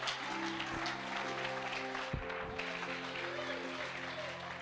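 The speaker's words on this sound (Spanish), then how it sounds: "Den un aplauso al Señor." Church congregation applauding during a Sunday service, a steady dense clapping wash over sustained keyboard chords, with a brief louder burst near the middle.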